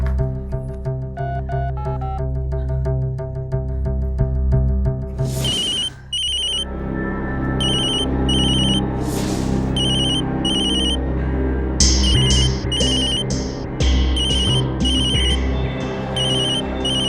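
A phone ringtone in a Hindi crime drama scene rings in repeated bursts from about the middle onward, layered over steady background music, with no talking.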